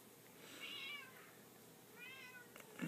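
A mother cat gives two drawn-out meows about a second apart while nursing kittens, moderately close and clear over a quiet room, with a soft rustle at the end.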